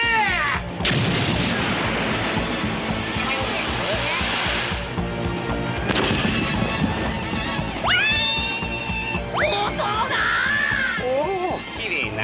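Cannon fire booms in an anime scene in a loud, dense burst of blasts and crashes, followed by whistling, sweeping tones like rising shells or fireworks over a music score.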